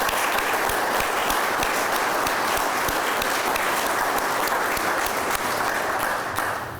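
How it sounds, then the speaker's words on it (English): A large audience applauds steadily and loudly at a Springfield Police Department officer promotion ceremony, a dense wash of clapping sustained for several seconds before easing slightly at the end, with no talking over it. "I would like to ask all of us to applaud the family of the Springfield Police"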